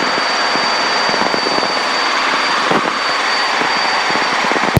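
A Los Angeles traffic helicopter's steady engine and rotor drone at night over the 5 freeway, continuous and fairly loud throughout, with no voices.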